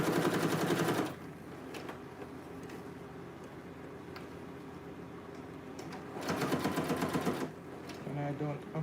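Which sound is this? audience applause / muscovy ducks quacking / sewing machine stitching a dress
sewing machine stitching a dress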